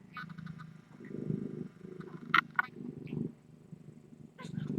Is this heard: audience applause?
no